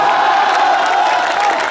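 A live audience at a stage performance cheers and claps loudly in one brief, dense burst of crowd noise.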